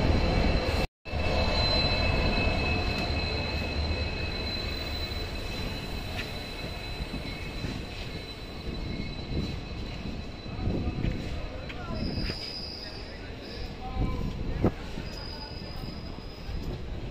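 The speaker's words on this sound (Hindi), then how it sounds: "हमारी ट्रेन भी आ रही है, आ चुकी है।" The Kanchanjunga Express passenger train arriving at a station: a continuous loud rumble of rolling carriages with clattering wheels and brief high squeals, heard close for the whole stretch.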